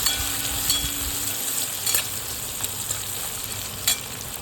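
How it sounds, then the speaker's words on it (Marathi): Green peas frying with onion in a pan for poha, a steady close sizzle with occasional scrapes and stirring clinks, no talk. "याच्यामध्ये आता आपण वाटाणे टाकून घेऊया आणि त्याला 1-2 मिनिट आपण मस्त फ्राय होऊन घेऊया"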